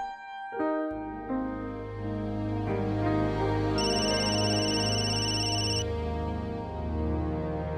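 A telephone rings in a home, an electronic melodic ringtone that plays steadily and fairly loud for several seconds, with a brighter high chime joining partway through, and no speech.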